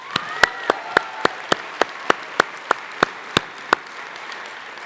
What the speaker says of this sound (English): Let's have one more round of applause for Sarah Wells.